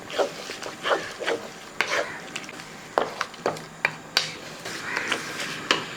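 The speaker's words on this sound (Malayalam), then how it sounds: "ശേഷം ഒന്ന് ഇളക്കി കൊടുക്കാം" Salted gravy for kuska biryani being stirred in a cooking pot: repeated scraping and rubbing strokes from a spoon at an uneven rhythm, close and fairly clear, with no talking.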